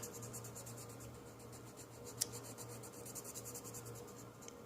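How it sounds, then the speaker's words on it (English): Soft, steady scratchy rubbing of waxy colored pencil on paper, continuous and close, with a faint low hum underneath. "I start moving the waxy part of these pencils around"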